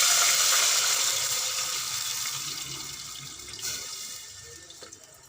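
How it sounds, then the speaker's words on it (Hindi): About half a litre of water pours into a pot holding ghee, cloves and green cardamom, a continuous bright splashing hiss that slowly eases over several seconds. "½ लीटर पानी डाल देंगे।"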